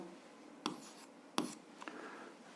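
A pen or pencil writes on paper during an algebra lesson, giving a few short, quiet scratching strokes with pauses between them in a quiet room.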